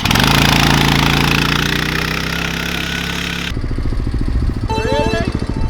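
Trailmaster Mid XRX-R go-kart engine roars loudly at high revs with a steady buzzing drone, then drops abruptly and shifts to a choppier, pulsing rattle as it runs on, with a brief whine near the end.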